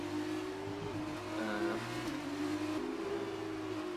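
An F2 race car in the F1 2019 career mode game drones along at steady engine revs, its pitch rising and dipping through gear changes and corners, a continuous near engine note with no talking.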